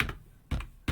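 A few keys on a computer keyboard are struck to type a MySQL command, giving three quick, close taps spaced apart in an otherwise quiet room.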